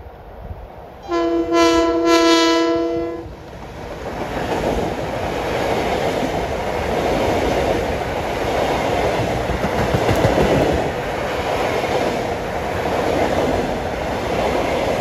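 Long Island Rail Road train 1555, Huntington to Penn Station, passes on track 1, sounding a loud two-second horn blast before its rolling rumble and wheel clatter continue steadily as it goes by.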